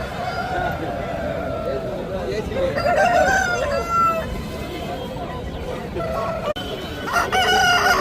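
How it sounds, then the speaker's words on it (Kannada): An aseel rooster crows at a busy poultry market in Kundarapalli, a drawn-out cock-a-doodle-doo rising over clucking fowl and the chatter of people talking nearby. "ಒಳ್ಳೆ ಕ್ವಾಲಿಟಿ ಹುಂಜ ಇದೆ. ಇವು ಬಿಗ್ ಸೈಜು ನೋಡ್ಬೋದು."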